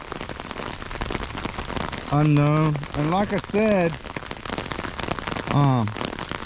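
Steady rain patters across an old cemetery's grounds and stones, a constant wash heard throughout while a person talks over it at times.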